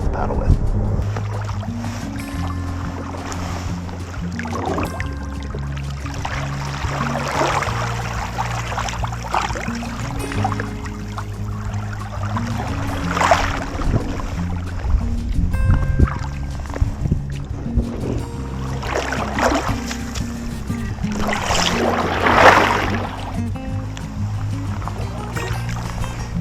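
A kayak is paddled with a wooden Greenland paddle, giving soft repeated splashes and water swirls in a steady stroke rhythm over a low background rumble, with a voice talking at times.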